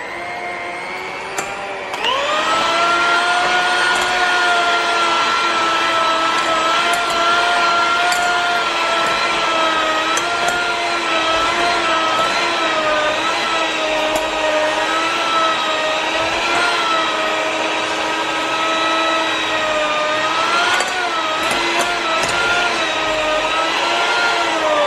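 A stand mixer fitted with a dough hook kneads focaccia dough, starting up after a moment and then running in a loud, steady motor whine for the rest of the clip.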